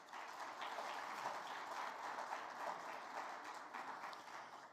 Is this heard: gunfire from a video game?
no